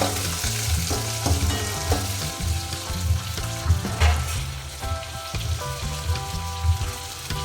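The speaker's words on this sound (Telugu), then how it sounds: "తర్వాత ఇక్కడ నేను ఆనియన్స్ అయితే వేస్తూ ఉన్నాను" Onions frying in hot oil with mustard seeds and urad dal, a steady loud sizzle with occasional stirring clatter, close and continuous without talk.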